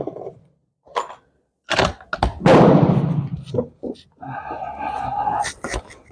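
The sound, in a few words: Portuguese Vergueiro rifle gunshot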